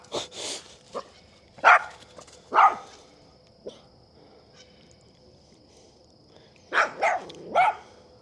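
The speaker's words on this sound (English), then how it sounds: "he hears the echo of his own bark and barks at the echo of his own bark" A dog barking at night beside a river, several separate barks with quiet gaps between them, loud and fairly near, with an echoing tail on some of the barks.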